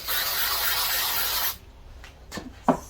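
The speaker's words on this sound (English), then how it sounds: "It's just spray adhesive that I got from Amazon." Spray adhesive from an aerosol can hisses in one steady close burst for about a second and a half, then stops, followed by a few faint handling taps and rustles.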